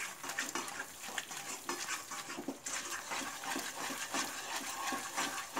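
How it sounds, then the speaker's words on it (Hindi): Yogurt being stirred continuously into dum aloo curry in a pan, soft scraping and gentle sizzling with faint utensil clinks, quiet and steady throughout. "कंटिन्यूसली मिलाएंगे ताकि दही फट ना जाए।"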